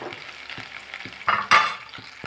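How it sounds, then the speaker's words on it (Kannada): Capsicum and mixed vegetables stir-fried in a pan for vegetable fried rice, a steady close sizzle with scraping stirs and a couple of louder hissing bursts partway through, no voices. "ಕ್ಯಾಪ್ಸಿಕಮ್ ಹಾಕ್ಕೊಂಡು ಚೆನ್ನಾಗಿ ಫ್ರೈ ಮಾಡ್ಕೋಬೇಕಾಗುತ್ತದೆ"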